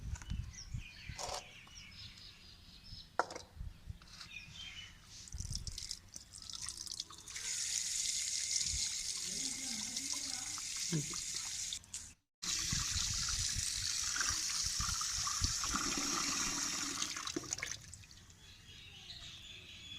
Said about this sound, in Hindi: चावल हमने धो लिए हैं, अब गोश्त धोएंगे।